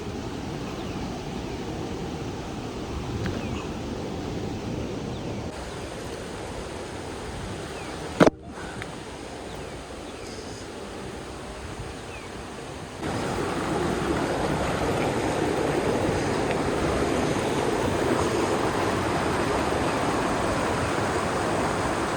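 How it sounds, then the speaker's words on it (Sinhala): The seventh waterfall at Meemure pours steadily in the distance, a broad even rush that swells louder near the end, broken once by a sharp short knock. "මම ආවා අවසාන ඇල්ල ගාවට"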